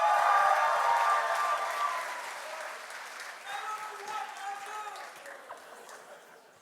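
Applause from an audience welcoming student event coordinators back to the stage, loud dense clapping at first that thins and fades, with talk and a little laughter mixed in toward the end.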